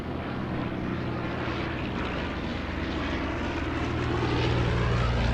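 An SE5 First World War fighter plane flies at an airshow, its propeller engine droning steadily and growing slightly louder toward the end, heard alone without voices.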